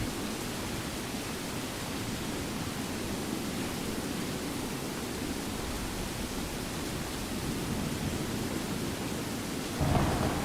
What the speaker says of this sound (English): the rain sounds aren't bad, huh? I believe that I'm running the, what is it, True Storms